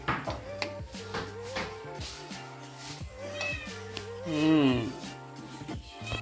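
A cat meows repeatedly and close by at mealtime, with a string of short meows and one longer, rising cry, while faint voices sound in the background.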